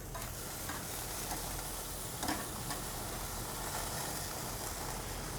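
Tenderloin steaks sizzle and crackle steadily on a Weber Silver grill while being reverse seared, a dense continuous hiss with a few small pops, close and moderately loud, with no talking.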